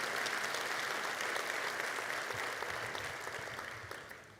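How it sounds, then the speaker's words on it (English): An audience at a university graduation ceremony gives steady, dense applause as the musicians leave, heard from a distance and slowly tapering off. "let us give them another round of applause as they leave the room"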